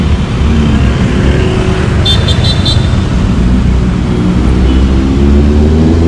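Busy Manila road traffic at the foot of the Binondo–Intramuros Bridge, a continuous low engine rumble of passing vehicles with a brief high chirping burst partway through, fairly loud and near, no talk.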